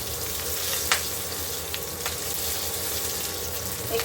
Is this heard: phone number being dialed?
no